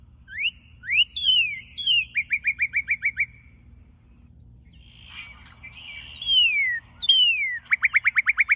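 Bird songs and calls played back from the Merlin Bird ID app: clear whistled upslurred notes and rapid trilled series, repeated in bursts with short pauses between, crisp and fairly loud with no talking.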